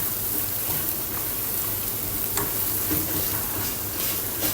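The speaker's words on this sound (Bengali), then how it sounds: "তারপর হালকা একটু লাল লাল করে ভাজা নেবেন সুন্দর করে" A pan sizzles steadily as food fries with a little turmeric, a continuous crackling hiss with scattered sharp pops and faint stirring scrapes, fairly quiet and with no voices.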